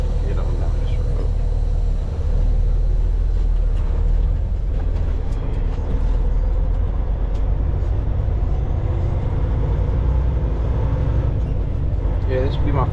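A vehicle driving along a road in a driver's point of view, with a steady low rumble of engine and road noise held throughout at even loudness.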